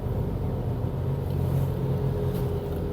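Steady low drone of a 2022 Mazda BT-50 4x4 pickup's 3.0L engine with 6-speed automatic, cruising at about 40 km/h; a quiet, even cabin hum with no talk.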